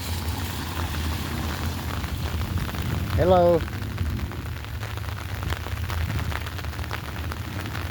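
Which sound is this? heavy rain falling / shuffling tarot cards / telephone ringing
heavy rain falling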